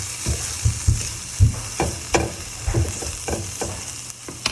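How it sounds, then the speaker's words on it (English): Onions frying in a pan sizzle softly under a rhythmic run of spoon scrapes and pushes, about a dozen strokes in quick succession, close up. "My onions, just give them another quick little stir."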